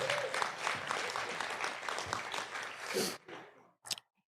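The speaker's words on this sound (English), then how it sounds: "Finally, give yourselves a hand." A morning audience at a podcast live event claps together, dense and sustained applause that cuts off abruptly, followed by a few scattered final claps.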